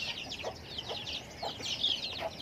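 A chicken, a young hen about two months old, makes a run of short clucking calls, repeated bursts spaced roughly half a second apart at close range over faint background noise.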